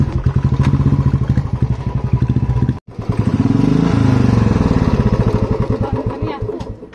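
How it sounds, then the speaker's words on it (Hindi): Motorcycle engine running loud and close on a village road, a rapid steady chugging idle that cuts out briefly, then restarts and revs with rising, falling pitch before easing off. "अभी यहाँ से जाएंगे हम लोग अपनी बाइक में"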